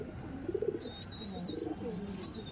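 Soft, low Madrasi pigeon coos repeat close by, with faint higher chirps from other birds in the background.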